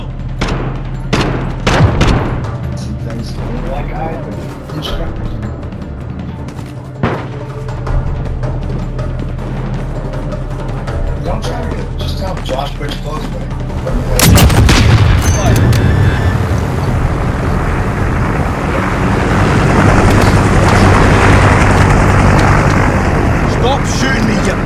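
Heavy gunfire and booming explosions in the video game Call of Duty: Modern Warfare, loud and dense, with rapid shots early and a rumbling blast that swells midway, while voices talk over the combat.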